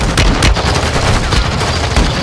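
Rapid gunfire in a Call of Duty battle royale match, loud and close, with sharp bursts of shots and a dense crackling roar over the short stretch.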